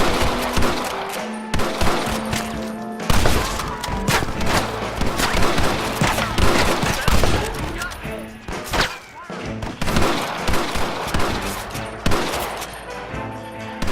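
Dense gunfire rings out through a Red Dead Redemption shootout, with heavy volleys and rapid bursts crackling almost nonstop and close, broken by deep thumps, while voices shout faintly underneath.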